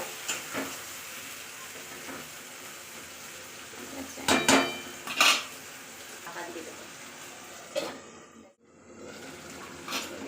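A peanut and coconut paste for aloo dum fries and is stirred in a pan, giving a low sizzle with several clattering scrapes and knocks of utensil on metal and a short pause near the end.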